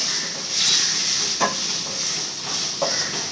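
Raw plantain pieces tipped into a pan of spiced masala and frying, a steady close sizzle with a few sharp scraping stirs from a utensil against the pan.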